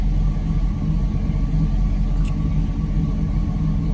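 A 1979 Chevrolet Monte Carlo engine idles while warming up, a steady low rumble with an even, unbroken drone at close range and no talking.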